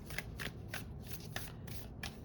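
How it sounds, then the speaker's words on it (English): A deck of tarot cards is shuffled in several quick, crisp riffles, close and quiet, each burst a short papery flutter. "One more shuffle."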